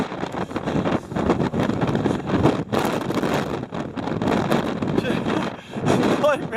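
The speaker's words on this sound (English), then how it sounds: "get some shelter from this relentless wind, which is really cold" A strong, cold wind blows relentlessly outdoors over freezing ground, buffeting the microphone in heavy gusts and rumbles. A person talks throughout under the roar.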